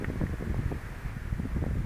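Winter wind blowing on the coast while lure fishing, a steady, close, rumbling gust buffeting the microphone with low roar, alone without any voices.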